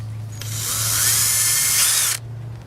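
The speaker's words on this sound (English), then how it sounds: "I'm just going to run a pilot hole into here" A power drill whirs steadily for about two seconds drilling a pilot hole for a tap in a chicken waterer, starting abruptly and cutting off sharply, close and loud with a low hum underneath.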